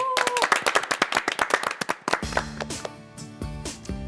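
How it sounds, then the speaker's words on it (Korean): Audience applause at a televised health clinic show, a burst of rapid, fairly loud claps that thins out after two seconds as a low tonal sound and scattered claps continue. "박수 한번 주세요"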